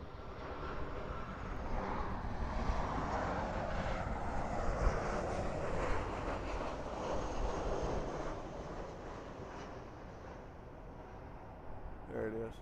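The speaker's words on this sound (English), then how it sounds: "We got a police helicopter or somebody over here looking for somebody." A police helicopter circles low near LAX airport, its engine and rotor drone steady and fairly loud across the whole stretch, mixed with wind buffeting the microphone and the broad wash of airport traffic.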